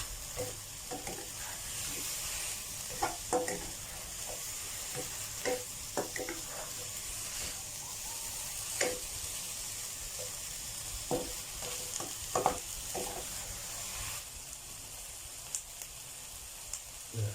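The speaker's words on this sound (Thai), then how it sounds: "ผัดให้เข้าเนื้อก่อน" Thai pork sausage sizzles and crackles in a hot pan as it is stir-fried with chili, a utensil scraping and stirring in irregular strokes, steady frying hiss throughout, no voices.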